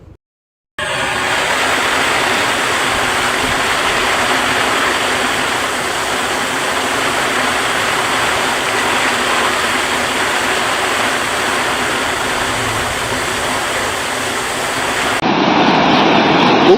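Heavy early-morning downpour pounds a Gujarat village, a dense continuous roar of rain that holds loud and steady for about fourteen seconds before the scene cuts to a slightly different rushing sound.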